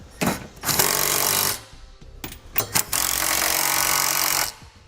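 Power tool bursts tightening a trailer hitch bolt with a 17mm socket on a 2012 Honda CR-V, two loud sustained runs of rattling impact with short clicks and a brief pause between them.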